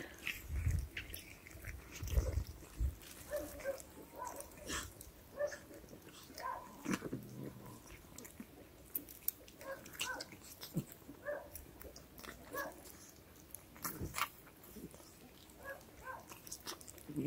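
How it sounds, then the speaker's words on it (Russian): A dog chews and crunches food close up, irregular wet bites and crackling crunches scattered through a stretch of quiet, with some sniffing and breathing in between. "Митяй, ты долго жуешь, Митяй."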